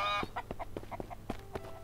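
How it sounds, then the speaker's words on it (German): A chicken in the survival game Mist Survival clucks in a quick run of short, choppy calls, close by and moderately loud, with no talk over it. "da ist noch ein Huhn"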